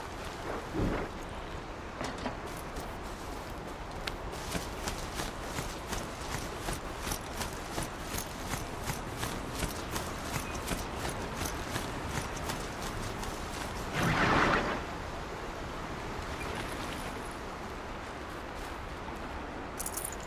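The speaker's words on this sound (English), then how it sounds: "I got a horsey" Horse mount galloping in Horizon Zero Dawn, a steady run of clip-clop hoofbeats throughout, fairly close, with a brief louder burst midway and no talking.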